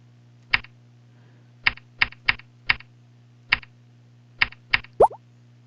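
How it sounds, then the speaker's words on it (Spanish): About nine separate clicks from a computer keyboard come in an uneven rhythm during a typing lesson, close and crisp against a low background hum, ending with a short electronic tone. "el espacio lo vamos a pulsar con los dos dedos pulgares"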